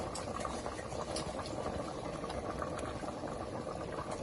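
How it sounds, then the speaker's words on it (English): Pot of Jamaican stew peas with coconut milk boiling steadily, a dense, continuous bubbling and simmering close by as dumplings go in, with no talk over it. "I'm gonna put in my dumpling in the pot"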